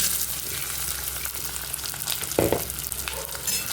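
Spiced rice for paneer pulao frying on a low flame, a dense close sizzle and crackle with a brief louder stirring scrape near the middle.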